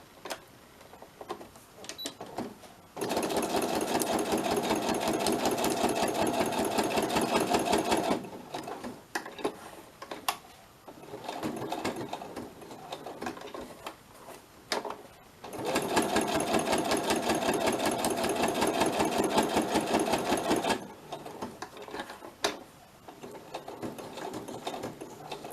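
Sewing machine stitching scrap paper word embellishments, two long steady runs of fast rhythmic whirring with quieter stretches of clicks and handling between them, close and moderately loud.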